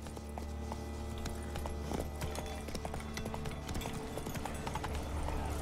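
Horse hooves clip-clop in a steady, continuous rhythm while riding in The Witcher 3: Blood and Wine, loud and close over constant game ambience with no talk.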